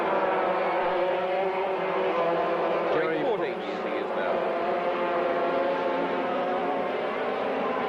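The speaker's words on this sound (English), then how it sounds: "just look at the way Brendan Richards is flinging this kart about" Junior go-kart engines at a 1987 race, a continuous loud buzzing drone of small two-stroke motors with a brief pitch sweep as a kart passes, under a commentator's voice throughout.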